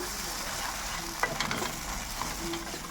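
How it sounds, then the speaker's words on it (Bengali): Spice paste with ground garlic for a Bengali duck egg curry fries in a pan under a steady close sizzle, with a few scraping stirs in the middle and no one speaking. "বাটা রসুনটা এবার আমি দিয়ে দিচ্ছি ওপর থেকে ভালো করে এই মশলাটা আমি এবার কষিয়ে নেব"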